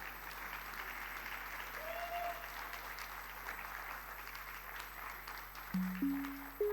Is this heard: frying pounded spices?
no